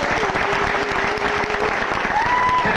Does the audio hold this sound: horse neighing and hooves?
no